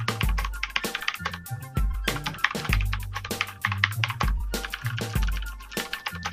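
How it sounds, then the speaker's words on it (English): Keys on a Turbot mechanical keyboard click in quick irregular bursts of typing, loud and close with sharp, crisp strikes, no talking. "it's got some nice click."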